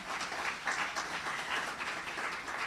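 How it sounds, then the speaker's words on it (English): A hall audience at the MICS launch gives a round of applause, soft, distant, steady clapping from a modest crowd lasting a few seconds. "And we can indeed give them a round of applause."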